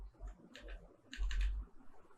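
Typing on a computer keyboard: quiet, close bursts of key clicks in two short clusters with brief pauses between them.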